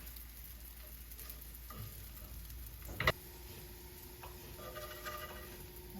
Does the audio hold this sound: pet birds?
no